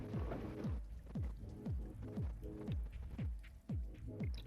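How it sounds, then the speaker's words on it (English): Rain drips from lanterns in the video game Dreams, a soft, fairly regular patter of individual drops falling one after another, each with a short descending plop, over a faint background of rain. "Now with the rain actually dripping from the lanterns"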